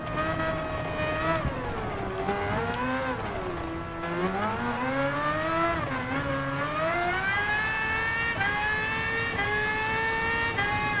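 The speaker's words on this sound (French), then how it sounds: "Par contre là on entend bien le moteur." The Red Bull X2019 Competition race car in Gran Turismo Sport roars steadily, its engine pitch swooping down and back up through gear and throttle changes before climbing in a long rising wail, loud and close throughout.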